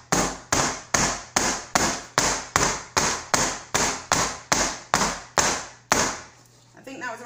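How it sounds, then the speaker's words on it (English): Cake tin full of batter banged down on a surface to knock out air bubbles, about thirteen sharp loud knocks in an even rhythm close by, then a pause and brief talking. "So I'm gonna bang my tin,"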